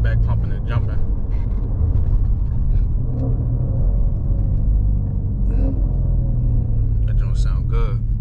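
A Mustang's engine rumbles low and steady throughout, its deep drone running continuously beneath people talking nearby.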